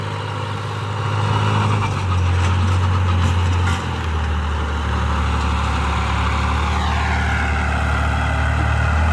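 A New Holland 5500 tractor engine drones loudly and continuously nearby pulling an 8-foot super seeder, its low rumble shifting slightly in pitch under load.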